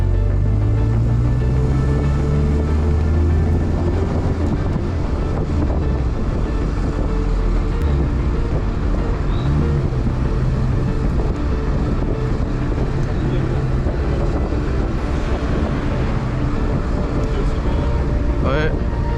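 A 1938 Citroën Traction Avant 11BL engine rises in pitch as it accelerates, then drones steadily, heavily buffeted by wind noise, with people talking over it.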